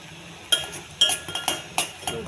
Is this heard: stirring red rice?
yes